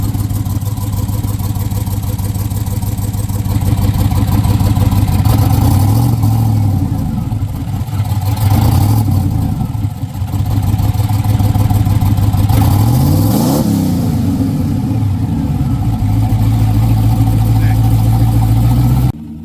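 A turbocharged LS engine car idles with a rough, uneven note and is blipped on the throttle several times. Loud and close, the revs rise and fall with clattery engine texture.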